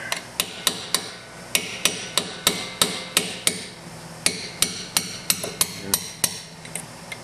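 A hammer taps a seal into place on a Chevy Colorado at a steady pace, about twenty close, crisp strikes with brief gaps between them, and no voices.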